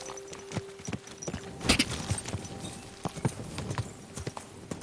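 Horse hooves clip-clopping in the medieval video game Kingdom Come: Deliverance 2, an irregular series of sharp, hollow knocks at a walking pace, fairly close, with one brief louder burst partway through and faint background ambience.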